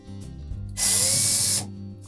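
A power screwdriver backs out a number 2 Phillips screw from a Samsung dryer panel in one close, loud whirring burst of under a second, with quiet handling noise before and after.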